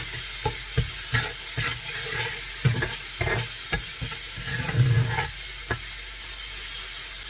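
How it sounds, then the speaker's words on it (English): Mushrooms and onions sizzle steadily in a pan while a utensil stirs and scrapes through them, with regular close scraping strokes over the continuous frying hiss. "I just need to make sure that I continue to stir it so it doesn't burn"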